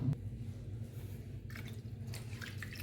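Toor dal being washed in water in a home kitchen, with soft drips, splashes and squishy swirling of lentils, faint and close, briefly louder near the start and midway, no talking.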